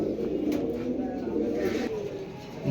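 Pigeons at a bird seller's, a pair of large red-eyed birds among others, cooing in soft repeated throaty calls close by, with steady low background noise and no clear talk.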